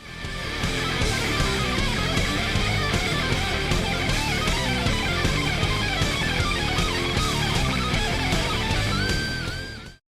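Guitar solo from a song, loud and continuous distorted rock guitar over a full band for about ten seconds, with no talking.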